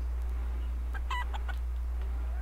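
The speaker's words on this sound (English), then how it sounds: "Oh, I heard a chicken." A chicken in the Palworld video game clucks in a short burst of a few notes, heard alone over a steady low game hum.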